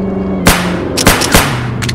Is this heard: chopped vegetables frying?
no